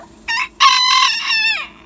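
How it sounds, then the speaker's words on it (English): Backyard hens and a rooster give a short burst of loud, close crowing and clucking calls, two distinct outbursts with the second drawn out and falling at the end. "here's a little video of my chickens"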